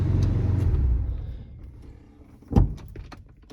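A cheap old pickup truck engine idles with a low rumble that fades away as it is switched off, followed by a sharp clunk and a few faint clicks and rattles in the quiet.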